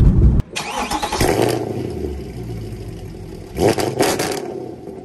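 A 2012 coupe with a 6.2 engine tuned to 531 horsepower cranks and fires up with a sharp burst, settles into a deep rumbling idle, then blips the throttle once in a loud rev near the end.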